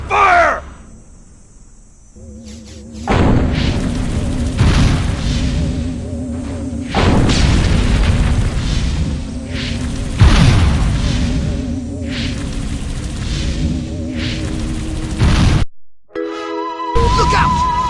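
Video game battle with troops opening fire: loud, dense stretches of booming explosions and gunfire rumble on and off across the scene, with brief quiet gaps and game sound effects between bursts.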